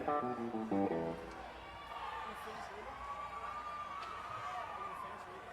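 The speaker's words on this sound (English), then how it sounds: "Got some crowd sounds going." A huge audience at a 2003 concert keeps up a continuous roar of cheering and whistling; a brief burst of tonal music or voice opens the stretch before the crowd noise settles in alone.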